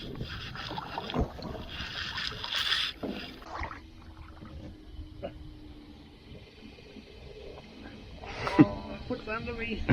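A person climbs into a kayak on open water, with hollow knocks and splashes against the hull, wind buffeting the microphone, and voices talking nearby.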